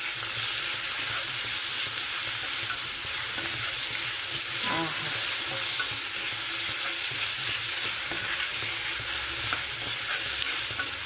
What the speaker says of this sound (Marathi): टोमॅटो पण टाकूया म्हणजे टोमॅटो पण छान भाजून जाईल कांद्याबरोबर